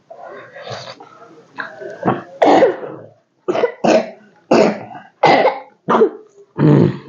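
A person coughs repeatedly while eating, with about seven or eight harsh, close bursts in quick succession, some sounding like throat clearing, and mumbled talk near the start.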